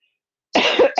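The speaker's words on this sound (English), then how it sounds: "Cough isn't quite gone yet." A single close cough from a woman still getting over a cough, a short harsh burst of two quick pulses after a moment of silence.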